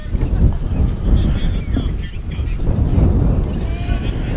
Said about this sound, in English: Very windy here at West Prairie High School